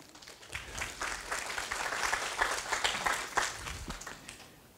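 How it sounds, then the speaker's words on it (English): An auditorium audience at a science camp's opening ceremony applauds the Director General of the National Health Insurance with steady, moderately quiet, dense clapping that holds for several seconds and then thins out. "Let's give him a big applause."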